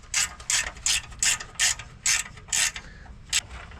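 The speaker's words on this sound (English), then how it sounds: "This is an 18 millimeter wrench. It's open-ended and a ratchet." An 18 mm open-ended ratchet wrench works on tow hitch bolts during a bumper install, making eight or so crisp, evenly spaced ratcheting clicks in a steady rhythm, close and loud with nobody talking.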